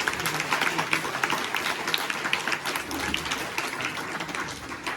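Audience at a farewell program for a school principal at an inter college in Simdi, Pauri Garhwal, clapping steadily throughout: a dense, sustained patter of many hands, fairly close and even in loudness, with no pause.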